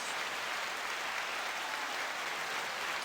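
Applause fills a podcast lounge recording as a steady, even wash of many hands, moderately faint and continuous throughout.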